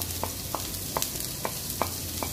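Onion frying in a pan and being stirred: a steady sizzle with about six regular scrapes or taps from the stirring utensil, plus a low hum underneath.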